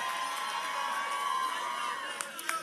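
A commencement crowd cheers and whoops for a graduating student, mixing shouts and clapping with scattered sharp claps near the end, sustained and moderately loud with no spoken words.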